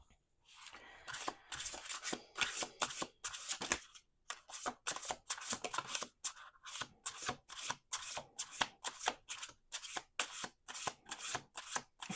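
Playing cards are riffled and shuffled in quick repeated bursts, a crisp flutter repeating steadily, close and fairly quiet, with no voices.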